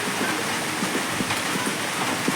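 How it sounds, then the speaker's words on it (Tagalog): Steady rain hisses evenly with no pauses, heavy and close, with faint patters and drips scattered through the wash of noise, on a morning in the Philippine countryside. "umuulan"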